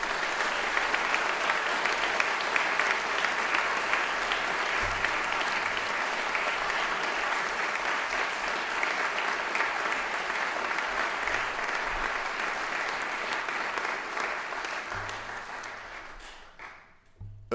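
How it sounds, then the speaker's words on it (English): A school assembly audience gives coaches sustained, dense applause at a steady level for about fifteen seconds, which then tapers off and fades near the end. "So I'd love you to give a huge round of applause to the coaches."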